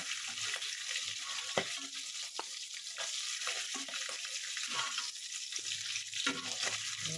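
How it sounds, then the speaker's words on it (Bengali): Fish heads frying in oil in a pan, giving a steady close crackling sizzle with a few sharper pops and clatters of stirring throughout. "এইভাবে পুরো মাথাটা আমি ভেজে নেব।"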